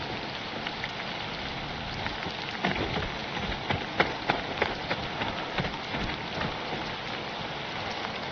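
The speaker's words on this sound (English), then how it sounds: "Oh, it's raining." Steady rain pours in the survival video game Dawn of Defiance, a constant broad patter on surfaces with scattered louder drips and knocks in the middle, heard alone without talk.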